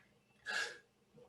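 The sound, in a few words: sneeze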